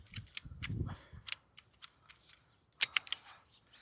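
A blade makes a straight cut through excess plastic on a self-watering pot, heard as a few sharp snips and clicks spread across the moment, with a tighter burst of crisp cuts near the end.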